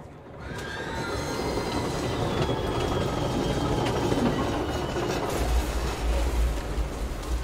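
A train in the video game Control rumbles past close by, a loud continuous roar with wheel squeal, rattling cars and a deep rumble swelling near the end, with no talking.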